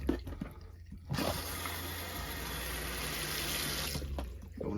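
Water runs steadily from a travel trailer faucet once trapped air has cleared from the lines during de-winterizing, a constant close hiss and splash with brief clatter at the start and end.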